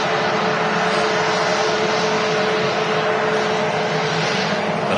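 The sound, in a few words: Express Boeing 737 MAX airliner arriving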